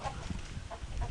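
A hen clucking in a poultry coop, soft low clucks that come and go at moderate distance over a steady background hum, with no talking.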